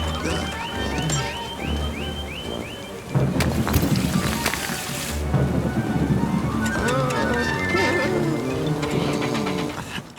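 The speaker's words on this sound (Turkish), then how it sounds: "Fırtına korkutucu olabiliyor biliyorum" Steady rain hisses while a sharp crack of thunder breaks in, followed by a rumbling roll; electronic beeps and tones sound alongside.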